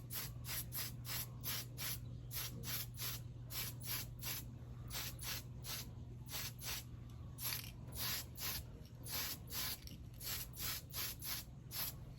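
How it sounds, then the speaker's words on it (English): An aerosol can sprays pearl green paint onto parts of a Revell 1937 Ford Pickup model kit in rapid repeated short hissing bursts. The bursts are close and steady over a low background hum. "we're going to go ahead and spray them with our pearl green"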